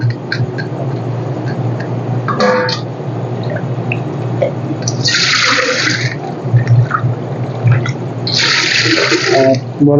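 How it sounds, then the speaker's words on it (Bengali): Rice is washed in water in a home kitchen, with a constant low swishing and two bursts of splashing, pouring water a few seconds apart, plus scattered drips and clinks. "এই যে এখানে চালটা ধুয়ে নেব"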